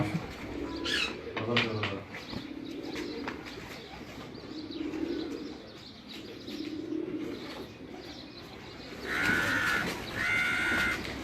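Racing pigeons coo in low, repeated throaty phrases close by, with bursts of wing flapping. Higher chirps come near the end, and a voice speaks faintly in the background.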